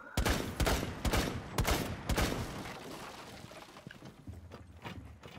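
Gunfire from a quick-scope shooter video game, several sharp loud shots in quick bursts at first, then fading to quieter clatter and mechanical noise.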